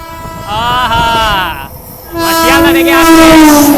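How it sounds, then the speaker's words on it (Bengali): A train speeds past on the Jangipur Road line, heard from aboard another train: a loud, continuous rush with sustained horn-like tones that rise into a strong steady blast in the second half. "সামনে মানে একটা ট্রেন আসছে"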